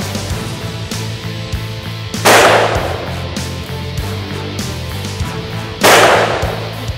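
Two loud, sharp shots from a Ruger Blackhawk Bisley .45 Colt single-action revolver with color case hardening, spaced a few seconds apart, each followed by a decaying ring over steady background noise.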